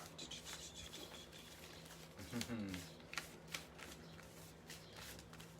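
A Gaia oracle card deck is washed by spreading and sliding the cards around on a surface, making soft papery rustles and scrapes with a few sharper taps and a faint voice underneath.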